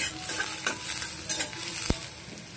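Sliced onion frying in hot oil in a kadhai, a steady close sizzle with scattered scraping and stirring clicks from a spoon, one sharp knock near the end.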